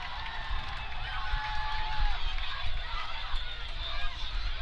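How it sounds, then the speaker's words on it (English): A stadium crowd and student section cheer in a football video game, a steady broadband roar with no clear peaks, continuous for the whole stretch. "the crowd's into it now. Student section's all fired up."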